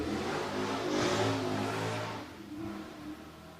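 A car engine revs outside in a neighborhood, a broad rising and falling roar that swells near the middle and then tapers off, heard at a moderate distance with no talking.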